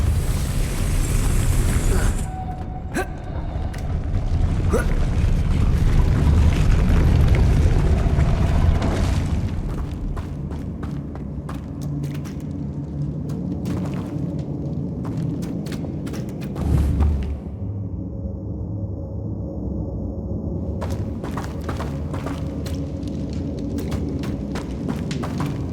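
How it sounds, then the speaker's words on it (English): Spinning mechanism raising a platform in Hogwarts Legacy, a deep rumbling, grinding drone that swells then settles, with scattered clicks and knocks and a brief thud near the end. "Making this spin ought to raise that platform."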